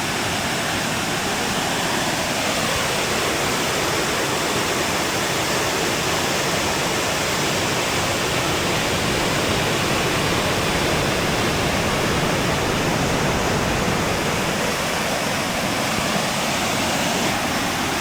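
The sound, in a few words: rushing river water during jetboat ride in New Zealand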